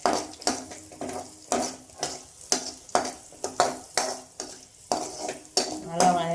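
Ingredients being sautéed and stirred in a pan until light brown, with a steady sizzle broken by repeated loud scraping strokes of a spoon, close and rhythmic, no talking.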